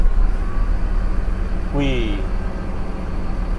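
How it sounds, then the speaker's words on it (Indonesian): A Mercedes-Benz 1623 bus engine cranks and catches briefly, heard from the driver's seat, a short start burst rising over a constant low mechanical drone, with a brief exclamation from a voice. "ini aku juga baru pertama kali mendengar suara mesin Mercy 1623 ketika di tempat driver"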